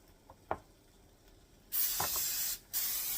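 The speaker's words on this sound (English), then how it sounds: "I don't know if I'm supposed to spray them or not, but we're going to do that" Cooking spray hisses onto a mini waffle maker in two strong bursts separated by a brief pause, preceded by a couple of soft clicks and handling knocks.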